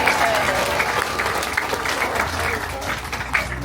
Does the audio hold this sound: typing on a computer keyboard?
no